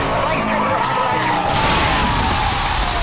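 A Lamborghini Gallardo slides in Need for Speed Hot Pursuit Remastered, a long loud tire squeal sweeping downward in pitch over a roaring engine, close and continuous, joined by a burst of broadband noise partway through.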